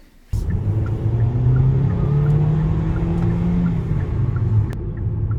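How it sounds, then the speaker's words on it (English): A Hyundai Kona Hybrid being driven and accelerating, heard from inside as a loud, steady engine and road rumble with a rising hum that holds for several seconds after a sudden start. "Makes a bit of noise, but it's bound to. It's a hybrid."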